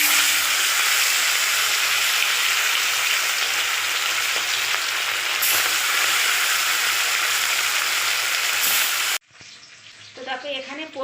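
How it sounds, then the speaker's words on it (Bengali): Halua fish from the Ganges, salted, frying in hot oil in a kadai, giving a loud, steady sizzle that runs unbroken for about nine seconds before cutting to a quieter stretch with faint clatter. "তো একে একে মাছগুলো এবার আমি কড়ার মধ্যে দিয়ে দেব।"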